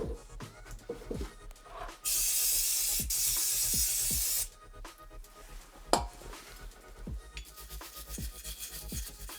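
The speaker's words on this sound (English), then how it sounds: "I'm just going to give this a big spray up with brake cleaner" Brake cleaner sprayed onto parking brake shoe parts of a Lexus LS400: one loud continuous hiss of about two and a half seconds, close by, amid scattered clicks and clinks of metal parts.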